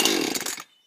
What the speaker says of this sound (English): this is a drop start for the saw